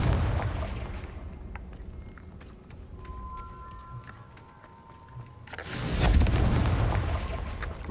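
A Confringo fire spell explodes in the Hogwarts Legacy video game, with a loud, broad burst near the end following quieter rumbling, crackling and faint ringing tones earlier.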